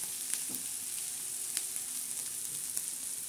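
Onion tadka frying gently on a low flame, a quiet even crackle with faint scattered pops and light stirring, steady throughout with no talk.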